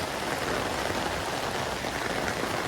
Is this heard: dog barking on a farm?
no